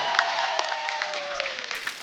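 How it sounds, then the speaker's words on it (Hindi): On a Hindi comedy show set, a studio audience claps and cheers to welcome guests, a moderate wash of applause under a held musical tone, with a few louder hand claps standing out and no talk. "जोरदार तालियां हो जाए"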